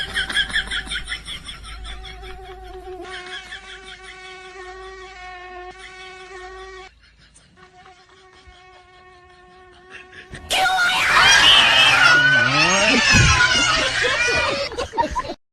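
A mosquito whines with a thin, high, steady buzz in a comedy sketch. After a short dip, the buzzing turns into a louder, busier stretch with squealing sounds mixed in.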